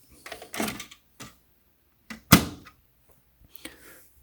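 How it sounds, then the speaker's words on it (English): A few soft plastic clicks and taps, then one sharper snap as the cover of an HP LaserJet Pro M254dw printer is pushed shut, followed by a light rattle. "You close the cover back up."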